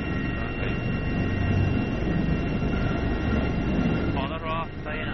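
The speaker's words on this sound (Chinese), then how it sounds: "经过细微的震动，直升机终于稳稳着陆" A military helicopter sets down on a small open landing area, its engine and rotor giving a steady droning roar with a whine, while people talk over it.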